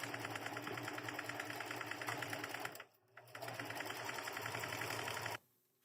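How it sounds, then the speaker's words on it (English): Sewing machine stitching fabric in an upcycling project, running in a steady fast rhythmic whir, pausing briefly midway before resuming, then stopping abruptly near the end. "sewing machine gonna do the work"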